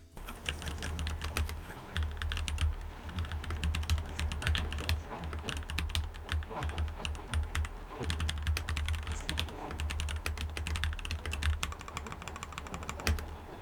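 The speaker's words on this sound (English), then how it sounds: "let's hear a short sound test for this keyboard" Continuous rapid typing on a Keychron V2 mechanical keyboard, soft muffled clacks in an uneven rhythm, heard alone and fairly quiet throughout.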